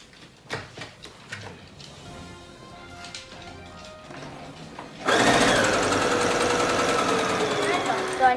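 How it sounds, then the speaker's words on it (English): A few clicks and taps, then a sewing machine starts up and runs at a fast, steady whir, loud and close. "I've been learning how to thread my sewing machine"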